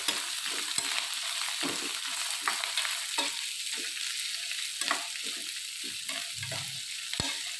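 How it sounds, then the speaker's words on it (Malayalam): Ginger, green chilli and garlic sautéing in a pan for coconut pickle, a continuous soft sizzle broken by repeated scraping strokes of a spoon and the odd light clink, no talk. "ഇഞ്ചി പച്ചമുളക് പിന്നെ വെളുത്തുള്ളി ഇതൊക്കെ ഇട്ടു ഇതൊക്കെ ഇട്ടിട്ട് നന്നായിട്ടൊന്ന് വഴച്ചെടുക്കാം"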